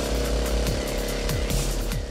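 Pneumatic drill boring holes into bauxite rock in a gemstone mine, a loud, continuous droning rattle with periodic surges as the bit bites, close and unbroken throughout.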